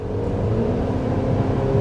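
2025 Chevy Traverse with a 2.5-liter turbocharged four-cylinder engine accelerating, a steady loud engine drone with rising hum, heard from inside or nearby without talk.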